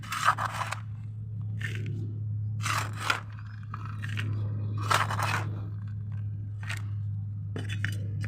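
Soil added over a broken clay-shard drainage layer in a plant pot for repotting a chandni (togor) plant, heard as close, intermittent gritty scrapes and crunchy pours in short bursts, with a steady low hum underneath.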